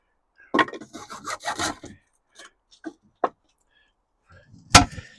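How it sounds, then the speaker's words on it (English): A hacksaw finishes cutting through a small piece on a garden allotment plot, giving a few scattered, close rasping strokes and clicks separated by quiet gaps, ending with a sharper knock. "finish that little bit off there with a hacksaw"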